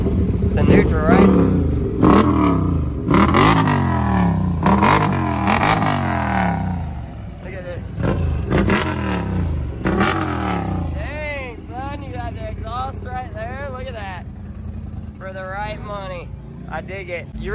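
A turbocharged off-road vehicle at a mud nationals event revs in repeated rising surges, loud and close at first, then settles as people talk over it.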